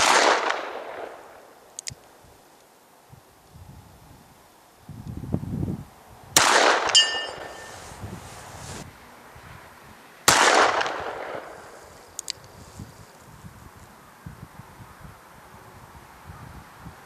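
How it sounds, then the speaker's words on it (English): Shots from a long-barreled Smith & Wesson Model 27 revolver fired outdoors in winter: three sharp, loud reports spaced a few seconds apart, each followed by a ringing decay, with quieter rustling between them. "these long-barreled Smith and Wesson revolvers are almost like having a rifle because of the long sight radius. They are an absolute joy to shoot"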